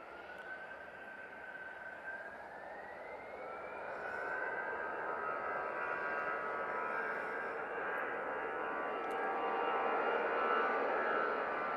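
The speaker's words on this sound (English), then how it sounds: "Nice landing there from the Easyjet" An EasyJet airliner lands at Manchester Airport, its engine roar steady and fairly distant, with a rising whine in the middle of the clip and the noise swelling slightly as the jet rolls out, no talking.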